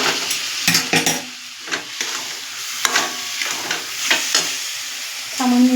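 Lentils and ash gourd cook in a pan while a spoon stirs them, making intermittent scraping and clinking strokes over a soft sizzle, with a brief louder scrape at the end.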